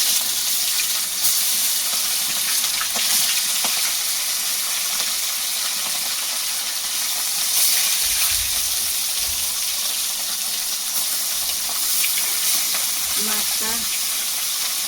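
Fish frying in oil for a kacchu pata curry, a steady broadband sizzle and hiss running through the whole stretch with occasional stirring clinks, close and moderately loud, no talking.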